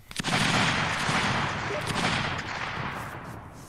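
A massed volley of musket fire from an infantry firing line in a multiplayer line-battle video game, a dense crackling burst that swells at the start and rolls on for several seconds as a continuous rumble.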